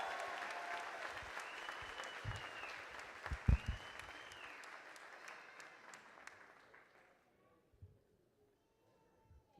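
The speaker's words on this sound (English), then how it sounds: "You deserve a great round of applause." At an African American graduation ceremony, a crowd applauds the graduating class of 2017 with fairly distant clapping and a few louder thumps, fading to near silence toward the end.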